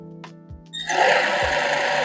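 An industrial sewing machine stitches bias binding with long stitches, starting after a few soft clicks and thuds, then a loud, steady motor whirr that runs to the end, close and alone.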